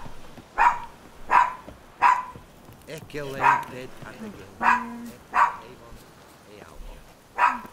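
A dog barks repeatedly in The Witcher 3 video game, a rhythmic run of close, loud barks with a brief spoken line in the middle.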